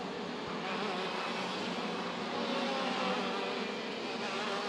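Kart engines drone at a WSK Champions Cup 2022 final karting race, a steady, fairly distant roar that holds without break.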